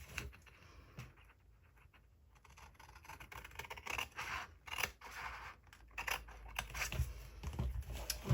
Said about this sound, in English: now I use my scissors to cut along the washi.